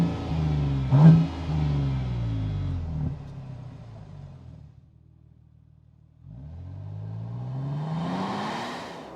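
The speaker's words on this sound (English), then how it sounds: "there is a Nismo tuned exhaust now, so you can hear it just revving right here." A 2026 Nissan Armada NISMO with a NISMO-tuned exhaust revs up hard, drops back to a low idle rumble, then climbs through another rising rev, loud and close with no talking.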